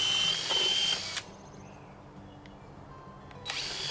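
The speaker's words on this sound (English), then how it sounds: "you can see how long it takes to drill 1 hole through 3 rounds" A power drill bores through stacked landscape timbers, whirring steadily for about a second, then cuts out to a quiet hum before briefly starting up again at the end.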